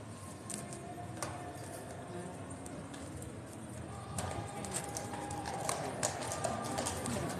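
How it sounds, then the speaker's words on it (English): Clip-clop of King's Guard horses trotting nearby, a steady run of hoof strikes on pavement with faint birdsong and the murmur of an outdoor crowd behind. "clippy cloppy heaven. It's horse guards."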